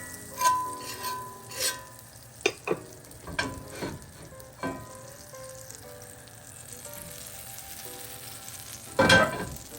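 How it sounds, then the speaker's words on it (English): Butter melts in a cast iron pan for a frittata, giving a faint, steady sizzle with a few scattered stirring clinks and scrapes, then a louder burst of sizzling near the end. "Just a little bit of butter this time. Just to make sure this is nice and coated."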